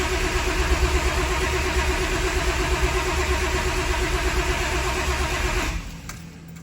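A 1963 Plymouth Valiant turbo slant six fitted with a new EFI system cranks steadily with a loud, even churning rhythm, close by, for several seconds before the sound drops away abruptly near the end.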